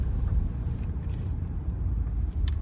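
Muffler-deleted 2.7L V6 turbo diesel Ford Territory cruising at about 40 km/h, a steady deep exhaust drone and low rumble that stays even and moderately loud throughout, with some wind buffeting.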